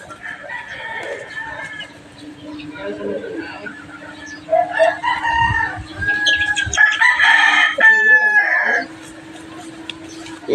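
Backyard chickens clucking close by as a rooster lets out a long, loud crow, with a person talking over the birds for much of the time.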